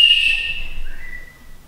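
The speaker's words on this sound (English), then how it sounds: "It's a whistle." A single shrill toy whistle blast, high-pitched and close, dropping slightly in pitch before fading out.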